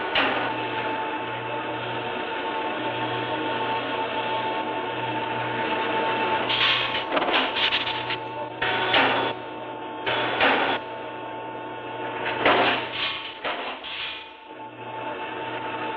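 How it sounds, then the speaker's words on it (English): A Weedomatic A30 numerically controlled punch press runs with a continuous mechanical hum and drone, broken by several louder bursts of clattering hits, heard close with no talking. "is this Weedomatic A30 punch press in Los Angeles, California"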